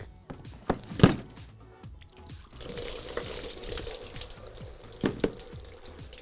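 Melted, impure water spills from a clear-ice mold into a kitchen sink, splashing and trickling in a soft rush with a few sharp knocks of the mold, fairly quiet and without talk.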